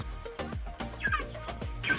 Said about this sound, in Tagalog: So ito po mga manok na ito ay mga dual purpose birds.